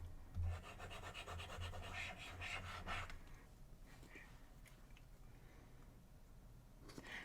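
A glue pen rubs a paper circle down onto a handmade card. The scraping strokes are faint and steady, with no talking.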